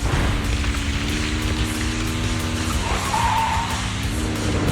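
In Zenless Zone Zero, a motorcycle skids over a constant roaring engine and rumbling game noise, with a brief squeal rising near the end.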